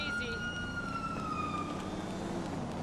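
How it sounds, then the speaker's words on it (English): Police sirens in GTA Online wail continuously with a steady rising and falling tone over a busy background rumble of traffic, moderately loud. "I'm so scared, there's sirens!"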